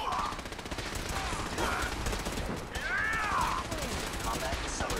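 Gunfire in Fallout 4 combat, rapid bursts of shots rattling continuously under game voices and a rising, warbling energy-like sweep in the middle.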